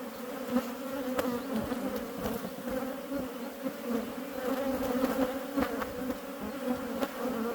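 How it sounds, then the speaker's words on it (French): Honey bees buzzing steadily around a hive frame as a swarm is collected, a close, continuous hum with no voices. "Je peux aussi prendre les abeilles sur ce cadre, puisqu'il n'y a pas la reine."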